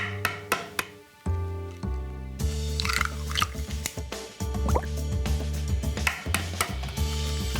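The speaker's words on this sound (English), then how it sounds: "Now I'm going to crack my eggs," Eggs are cracked into a bowl of French toast batter, giving close sharp taps followed by wet drips and liquid plops, repeated over several seconds with soft background music.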